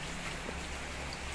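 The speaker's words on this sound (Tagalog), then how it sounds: "Sobrang lakas ng ulan." Heavy rain pours down under a dark sky during an all-day downpour, a steady, dense hiss of falling water with no break, fairly close and without voices.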